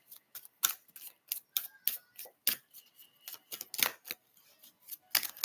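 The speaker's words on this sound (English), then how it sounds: "I'm going to shuffle the cards" Tarot cards are shuffled by hand up close, giving a quick series of crisp, uneven snaps and papery flicks with short pauses between, and no voices over them.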